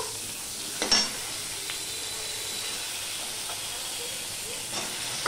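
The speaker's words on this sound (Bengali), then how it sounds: "যা তেল আছে ওই দিয়ে অল্প তেলেই ভেজে নেব।" Eggplant slices frying in a little oil, a soft, steady sizzling hiss with a couple of brief clinks and bumps, no voices.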